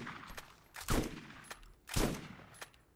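Weapon fire in the video game Borderlands: two loud, sharp shots about a second apart with short decaying tails, plus a few lighter clicks between them, no talk.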